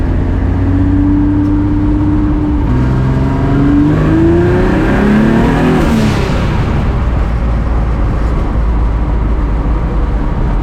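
A modified Mitsubishi Eclipse engine revs hard and climbs in pitch as it accelerates, loud and close, with a steady roar and rising whine throughout.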